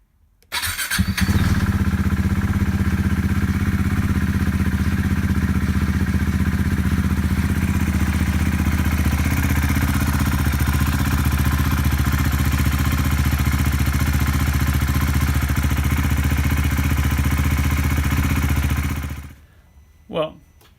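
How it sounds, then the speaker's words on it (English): A crashed KTM 390 Duke single-cylinder motorcycle engine starts and runs steadily for about eighteen seconds with an audible mechanical rattle, loud and close, then cuts off abruptly near the end. "Not happy about that rattle in the engine, but I don't know if that's normal for this model when they're cold."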